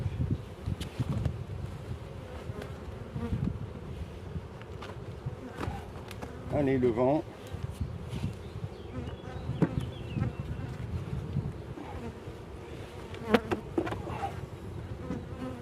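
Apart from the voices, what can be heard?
honey bees buzzing around hive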